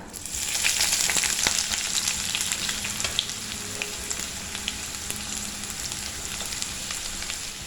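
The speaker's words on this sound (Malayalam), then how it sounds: "ഇനി ഇതിലേക്ക് ഒരു 2 വറ്റൽമുളക് ചേർത്ത് കൊടുക്കാം. ഇനി നമുക്കിതിലേക്ക് ഒരു 2 സവാള ചെറുതായിട്ട് കട്ട് ചെയ്തിട്ട് കൊടുക്കാം." Chopped onions and dried red chillies frying in a pan for an egg curry with coconut milk, a steady loud sizzle with occasional crackles and stirring scrapes, no voices.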